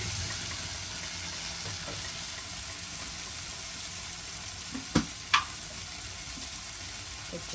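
Ingredients for a Sri Lankan fish curry made without coconut milk sautéing in a pan, a steady soft hiss of frying throughout with two brief sharp clicks near the end, fairly quiet and unaccompanied by speech.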